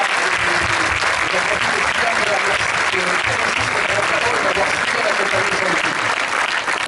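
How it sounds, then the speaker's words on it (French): A cinema audience at a preview screening gives the film producer a dense, continuous round of applause, full and even throughout with no pause. "je vous demanderai de l'applaudir"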